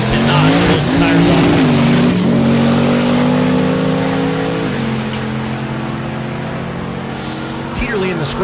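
A drag race car makes a run at Thunder Valley in Noble, Oklahoma, its loud engine roaring and revving with stepped harmonic tones. The sound slowly fades as the car pulls away, while a commentator talks over it.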